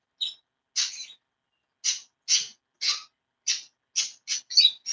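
A baby lovebird gives a series of short, raspy high chirps at irregular intervals, close and fairly faint against a quiet background.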